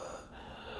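A person's voice imitates a dog's strained, wheezy breathing from a prong collar fastened too tight: one short, raspy breath, close and alone.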